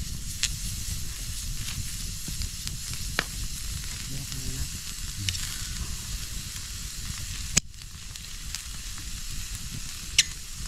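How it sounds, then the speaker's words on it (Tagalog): Chicken grills over an open wood fire outdoors, giving off a steady sizzle and hiss with occasional sharp crackles and pops from the flames, and no one speaks. "Inihaw na manok."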